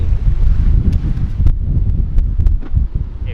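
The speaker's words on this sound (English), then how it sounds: "hopefully the microphone is working okay, but yeah, it's really windy" Strong beach wind buffets the microphone with a continuous low rumble and gusty roar beside a rock cave on the coast at Malindi, Kenya, loud and close with no voices.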